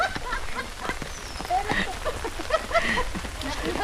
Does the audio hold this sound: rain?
yes